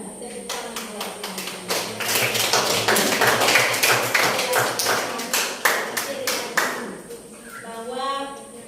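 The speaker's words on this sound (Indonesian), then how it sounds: "Ya, tepuk tangan buat" Applause at a presentation: sharp claps from a small group, sparse at first and then dense and steady, with a voice speaking under the clapping near the end.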